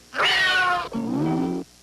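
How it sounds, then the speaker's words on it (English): A cartoon cat yowls as its tail is stepped on, a loud two-part wail that rises sharply and then drops into a lower drawn-out cry, with no talk over it. "maybe if I stepped on your cat's tail"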